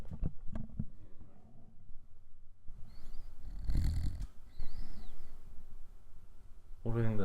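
Snoring from an AI robot dog, slow rhythmic snores at moderate level through most of the stretch, with people talking and a brief louder voice at the end.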